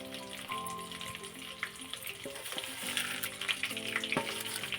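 Garlic crackles and sizzles in hot oil for a kadalepuri tempering, with a continuous, close frying hiss and a few sharp pops and stirring clicks.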